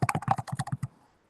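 Rapid typing on a computer keyboard, a quick burst of about ten crisp key clicks close by, then quiet.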